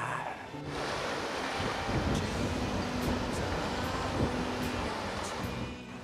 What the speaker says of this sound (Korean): 여러분도 들려드릴게요. 파도 ASMR.